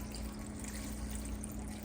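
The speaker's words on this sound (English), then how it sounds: "And then I'm going to add some more water." Water pours steadily into a pressure-cooker pot of 15 bean soup with smoked turkey in a continuous broadband rush, fairly close, with a low hum underneath and no talking.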